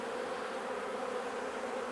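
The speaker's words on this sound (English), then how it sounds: "quite a lot of bees are up in the air now" A honeybee swarm buzzes in the air near a nuc box. The hum is steady and continuous, a dense droning that holds at a moderate level throughout, with no voices.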